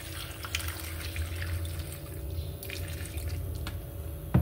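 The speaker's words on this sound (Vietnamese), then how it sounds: "đổ nước vô." Water pours into a frying pan on a stove while cassava is being cooked, a steady trickling, dripping flow at close range that ends with a short clatter, with no speech.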